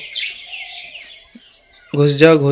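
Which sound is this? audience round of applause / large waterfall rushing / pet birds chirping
pet birds chirping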